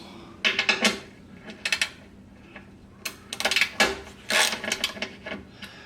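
A ratchet backing out transmission mount bolts on a Jeep TJ, producing quick bursts of clicking pawl ratcheting in several separate runs with short pauses, close and moderately loud.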